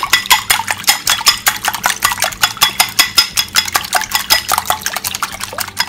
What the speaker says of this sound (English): Add my eggs, and then I start whisking.